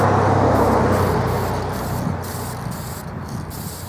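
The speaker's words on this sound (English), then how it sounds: "Now I'm going to spray this bell section." Lacquer sprayed onto the bell section of a Herald trumpet during restoration, a loud continuous hiss of spray outdoors that eases slightly partway through, with soft wind and distant road noise underneath.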